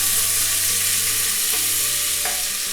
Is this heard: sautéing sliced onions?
yes